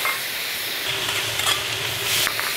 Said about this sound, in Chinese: 姜末、蒜末一起炒香